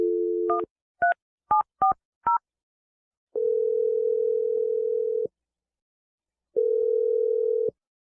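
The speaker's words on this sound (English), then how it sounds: "I'm going to dial Adam's phone number right now." A telephone keypad dials a number with five quick touch-tone beeps, followed by two long, even ringing tones separated by silence.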